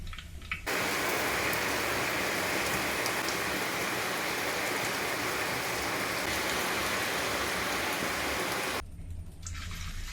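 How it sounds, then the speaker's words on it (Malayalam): Heavy rain pours steadily outdoors, a dense, loud, unbroken hiss that starts abruptly and cuts off near the end, with no voices. "ഇവിടെ ഇപ്പോൾ നല്ല മഴയാണ്."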